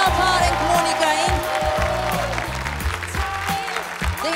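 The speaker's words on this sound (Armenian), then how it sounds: "բարձր ծափար ենք Մոնիկային" A TV talent show studio audience applauds contestant Monika Bekyan with sustained, loud clapping throughout while music plays underneath.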